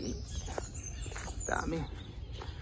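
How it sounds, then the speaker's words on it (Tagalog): Several birds chirp and call in short bursts over a steady outdoor background hum, with faint voices talking in the distance, at an abandoned part of the Amador Causeway in Panama. "Daming mga ibon. Naririnig nyo yung tunog na yan."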